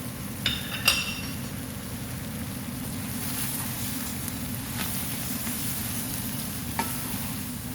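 Butter sizzles and crackles steadily in a hot pan while a bacon quiche filling with spinach cooks. The soft, constant frying hiss carries a few brief clinks of a utensil early on.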